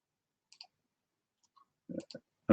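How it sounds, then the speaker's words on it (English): Typing on a computer keyboard in a quiet room: a few sparse, separate key clicks, then a tighter cluster of taps and a heavier final keystroke, close by and with no talk. "right now I'm on a different tab and I'm typing in something that I need to type in"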